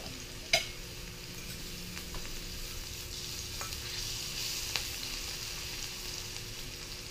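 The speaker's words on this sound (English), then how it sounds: "You just want to get this stuff in that hot oil just for a minute or two to release its flavors." Chopped vegetables and aromatics fry in hot oil while fish is cooked outdoors, producing a soft, steady sizzle with a couple of sharp clicks and pops, faint and with no voices.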